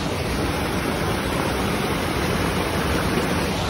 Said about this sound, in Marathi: आपल्याला इथे एक पाईपातून वॉटरफॉल दिसतोय.